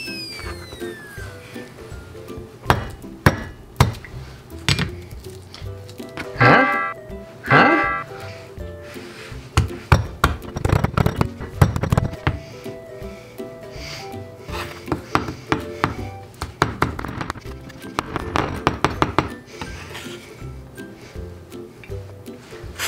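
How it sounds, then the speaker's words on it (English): A knife finely minces garlic on a board, giving irregular bursts of close, sharp taps and chops with squishy cuts between them, with some muffled background noise. "Finely minced garlic."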